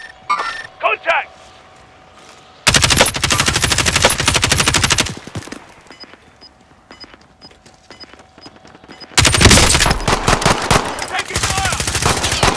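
Video game machine gun fire erupts in two long, loud, dense bursts of rapid shots. The first runs a few seconds, a quieter stretch with faint mechanical noise follows, then a second sustained barrage closes the clip.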